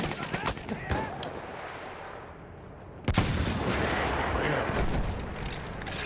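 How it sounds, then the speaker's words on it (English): Anti-tank gun shots in Battlefield 1, with sharp loud blasts early and a heavy boom near the middle followed by a rumbling, noisy battlefield background. "Shooting people with an anti-tank gun"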